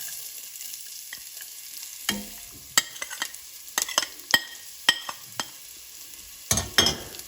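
Chopped coconut pieces frying in ghee with a soft background sizzle, broken by sharp scraping knocks of a spoon stirring in the pan at an irregular pace.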